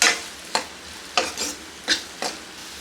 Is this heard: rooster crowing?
no